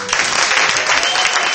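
Dense, sustained applause from a concert audience after a country band's set, loud and continuous with no voices standing out.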